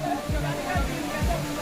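Floodwater pours down stairs on a flooded Jaipur street, a steady rushing wash with repeated low sloshing surges, heard under a voice talking over it.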